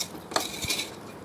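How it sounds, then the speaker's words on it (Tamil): Fried boondi being stirred into sugar syrup in a pan for Tirupati laddu: a brief moment of soft scraping and a couple of light clinks of a spoon against the metal pan, close and quiet. "இப்போ நம்ம சுவிட்சை ஆஃப் பண்ணிவிட்டு இந்த பூந்திகளை கொட்டுறோம். கொட்டி நல்லா கிளறி கொடுத்துக்கலாம்."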